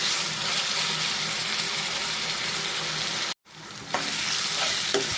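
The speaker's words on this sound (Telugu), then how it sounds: "అల్లం, వెల్లుల్లిపాయ, జీలకర్ర, ఇది కూడా కొంచెం పచ్చివాసన పోయేదాకా ఫ్రై చేసుకున్నాము" Onions with ginger, garlic and cumin paste fry steadily in a pan with a continuous close sizzle, briefly cut off, then resume with a few stirring scrapes.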